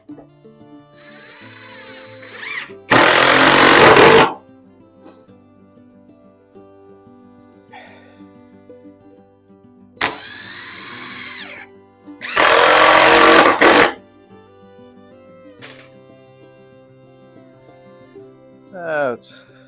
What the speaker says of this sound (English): We're gonna go ahead and screw this face down.